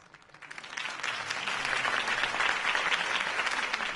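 Crowd applause rises from a quiet start into steady, dense clapping that holds to the end, heard in the Batman: The Telltale Series game during Harvey Dent's campaign speech.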